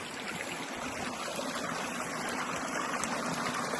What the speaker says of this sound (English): And these waterfalls here.